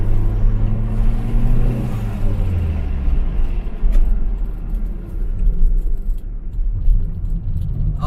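A Toyota Starlet turbo car accelerating in third gear after a downshift, a loud steady engine drone with rising and falling pitch, heard from inside the car with no talk.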